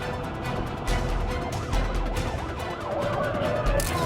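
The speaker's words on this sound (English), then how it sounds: "Sirens scream, chaos erupts" Police car sirens wail continuously during a high-speed pursuit amid loud traffic and road rumble, the rising and falling tones weaving through the noise.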